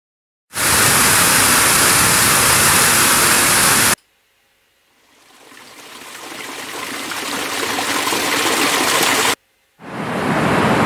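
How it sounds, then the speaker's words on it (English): Waterfall, a dense, loud roar of falling water in two sharp-edged bursts, separated by a quieter stretch of rising rushing water. "On our second clip, we've got a waterfall there."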